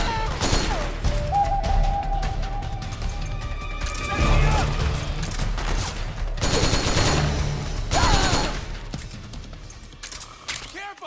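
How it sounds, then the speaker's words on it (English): Heavy sustained gunfire and crashing impacts from a battlefield in the stealth action game Metal Gear Solid 4, bursts of automatic fire with surging explosions, with soldiers' shouted voices mixed in. "Suppressing fire!"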